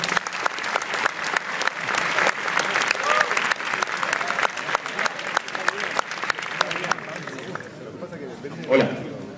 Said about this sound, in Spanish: Un fuerte aplauso para Daniel